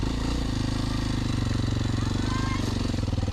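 A Kawasaki KLX 230 trail motorcycle's single-cylinder engine runs loud and close with a rapid, steady chugging pulse throughout.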